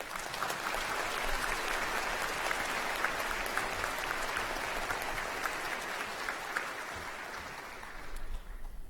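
Sustained applause from the audience at a university Encaenia graduation ceremony, a dense, even wash of clapping that holds steady throughout before trailing off at the very end.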